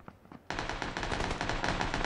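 Automatic gunfire in PUBG Battlegrounds erupts after a few faint shots, becoming a loud, dense, rapid burst of shots that continues to the end.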